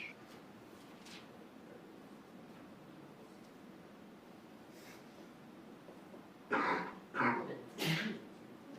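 A sneeze during a mechanics class review session arrives as a few sharp, breathy bursts near the end, after a stretch of quiet room noise.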